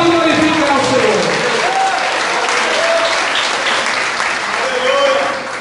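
A church congregation applauds with sustained, dense clapping that fills the space, while a voice carries on over it throughout.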